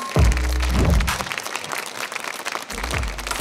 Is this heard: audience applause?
yes